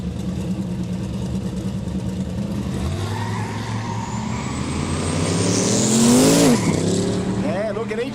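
An LS Courier tray-back launches off the line side by side with another tray-back at a no-prep quick street drag day in Kooralbyn Valley. Loud engines rev and climb in pitch, with a tire squeal, over crowd and commentary voices.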